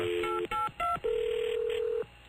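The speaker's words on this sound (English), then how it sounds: "Jim McClure, answer the friggin' phone." Telephone keypad tones beep on a radio talk show: a few short dialing beeps in quick succession, then one longer tone, clear and close with no talking.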